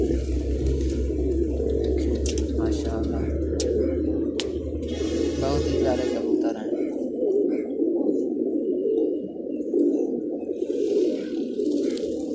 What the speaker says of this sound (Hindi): हर रंग कबूतर है।